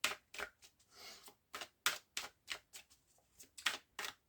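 A deck of tarot cards being cut and handled, a quick run of sharp, crisp riffling flicks and slaps in irregular bursts, close and fairly quiet with no speech.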